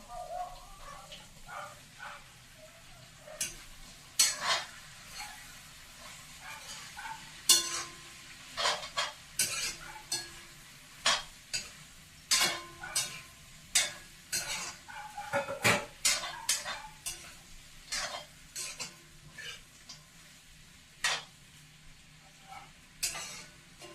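Pieces of bottle gourd tipped onto browned meat in a hot pan, with a soft sizzle beneath repeated sharp scrapes and clinks of a spoon stirring against metal, spaced in an uneven rhythm.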